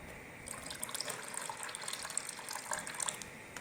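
Chilled boiled milk pours from the fridge into a bowl for a carrot kheer. It is a soft, continuous liquid trickle with light splashy flecks, quiet and close, with no talking.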